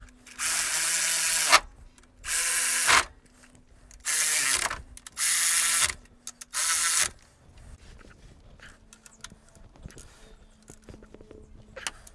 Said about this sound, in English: So first we tighten all these bolts. The 14 millimeter,